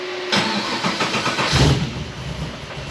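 A Nissan 350Z engine, running E85 with fresh plugs after a manifold repair, cranks and catches, then settles into a steady, loud idle close by.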